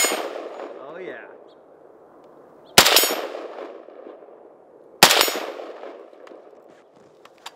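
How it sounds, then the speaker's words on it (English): Two sharp rifle shots from a Zastava ZPAPM70 outdoors in snow, each followed by a ringing clang off a distant steel target and a long decaying echo, spaced a couple of seconds apart. "Let's see if I can hit that steel out there."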